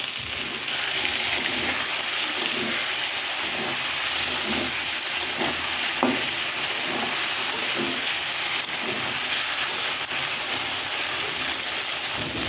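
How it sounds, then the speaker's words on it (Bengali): Raw katla fish pieces being stirred into a yogurt masala in a pan, with a loud, continuous sizzling hiss and occasional soft scrapes and knocks beneath it. "ভালো করে এখন নেড়ে নেব"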